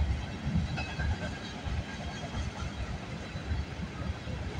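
CN A434 freight train passing at Bronte Street: a low, steady rumble of rolling cars with rhythmic wheel thumps, moderately distant and continuous.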